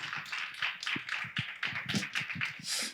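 A youth congregation at a Sunday worship service claps to welcome the preacher, a loose, uneven run of individual claps of varying strength, fairly quiet and without talk.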